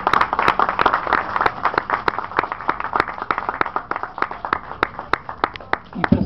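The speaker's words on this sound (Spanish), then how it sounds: "un aplauso, por favor" A small audience claps for a doctor being introduced at an event, sparse distinct handclaps in a loose, slightly irregular rhythm, fairly close and steady throughout with no talk over them.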